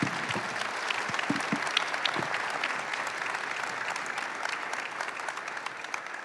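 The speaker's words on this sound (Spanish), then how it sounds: "Así que los despedimos con un fuerte aplauso." Sustained audience applause fills a hall at an investment expo in Buenos Aires, steady and dense throughout with a few sharper individual claps standing out near the front.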